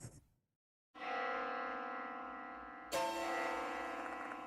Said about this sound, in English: This bell sound is...